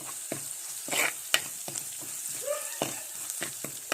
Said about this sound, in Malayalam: നമ്മുടെ ഇഞ്ചിയും വെളുത്തുള്ളിയും പച്ചമുളകും എല്ലാം ഒന്ന് വഴന്ന് വന്നിട്ടുണ്ട്